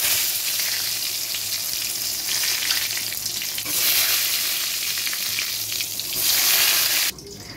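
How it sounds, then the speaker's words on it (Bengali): Loud, continuous sizzle of eggplant frying in hot oil up close, swelling slightly at moments before cutting off abruptly near the end. "বেগুনটা ভাজা করার জন্য তেলটা বসে দিয়েছি"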